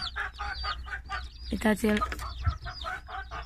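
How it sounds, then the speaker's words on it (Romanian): A Cochin rooster clucks several times, close and fairly loud, with someone talking over and between the calls. "Cocoșul acesta care îl vând"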